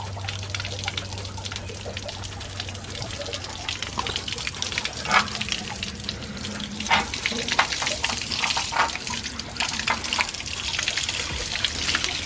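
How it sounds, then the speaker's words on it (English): Garden hose water flushing through the inside of a Jeep Wrangler frame, a steady hissing, trickling wash of water with splashing bursts, close and continuous throughout. "it's gonna go ahead and just flush everything out, clean everything inside the frame"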